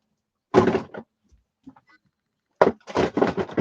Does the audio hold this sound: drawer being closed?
yes